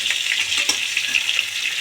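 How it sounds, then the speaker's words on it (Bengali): Potato pieces frying in hot oil for a meat curry: a close, dense, steady sizzle and crackle throughout, with no voices. "আলু ভাজা হয়ে গেছে, তুলে নেব।"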